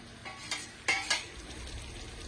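Spice paste for a katla fish curry fries and is stirred in a pan, with a low steady sizzle under a few soft scraping strokes, close and fairly quiet, and no talk.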